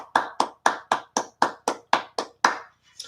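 One person claps about ten times in a steady, even rhythm. The claps are close and sharp, and a last softer clap trails after a short pause.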